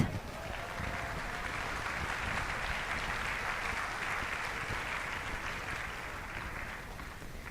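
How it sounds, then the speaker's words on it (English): An audience at a women's conference in the Diocese of Venice gives a round of applause, steady clapping from a crowd heard at moderate distance, sustained for several seconds and fading slightly at the end. "the one that I'm going to ask you to give a round of applause, San John Paul II, the greatest."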